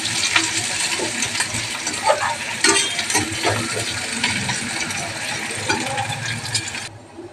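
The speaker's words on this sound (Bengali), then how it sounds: "একটা পেঁয়াজ কেটে রেখেছি, ওইটা দিয়ে দিলাম। এবার এটাকে ভালো করে আমি ভেজে নেব।" Chopped onion frying in a pan on a home stove, a steady broadband sizzle running throughout with occasional clinks and scrapes of a utensil stirring against the pan, fairly close and loud, no talking.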